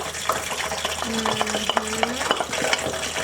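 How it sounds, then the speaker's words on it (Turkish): Steady stirring and scraping of chicken in a pot with a faint sizzle underneath, a few light clinks of a utensil against metal. "Karıştırayım böyle bir anda."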